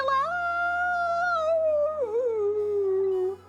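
A Pomeranian dog in the video game Ghost Trick lets out a single long, loud howl that holds level, then dips and wavers before trailing off, with no other sound.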